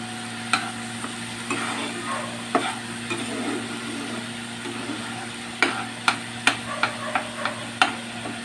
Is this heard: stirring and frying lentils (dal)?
yes